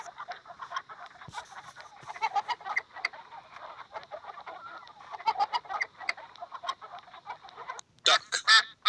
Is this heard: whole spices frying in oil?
no